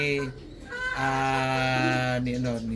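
A gamefowl rooster at a breeding area gives a drawn-out, tonal crowing call that rises and holds for over a second, close by, with a brief voiced sound just before it.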